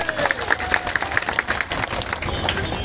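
A crowd applauds for the owners of a Bangladeshi company at a showroom event, a short burst of hand-clapping that carries on for a few seconds under a faint murmur.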